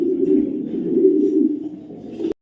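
A male club racing pigeon of the mili type coos in a low, steady, continuous murmur, close by, ending abruptly with a short click.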